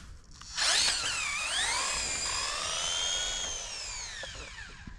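An MJX electric RC car motor whines up to full throttle on a track, a loud high-pitched electric scream that rises in pitch, dips and climbs again, then fades slightly near the end.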